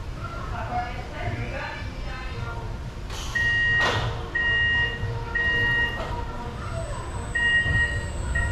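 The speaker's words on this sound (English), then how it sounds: "So Air Grover has its buzzer back, but it's a little bit different sound." Dispatch buzzer on the Air Grover roller coaster at Busch Gardens, a newly changed tone, sounding as several steady beeps of about a second each in a loose repeating pattern over crowd chatter and park noise.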